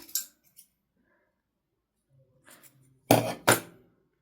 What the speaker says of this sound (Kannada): ಈಗ ಎಕ್ಸ್ಟ್ರಾ ಇರೋ ಥ್ರೆಡ್ನ ಕಟ್ ಮಾಡ್ಕೊಳ್ಳೋಣ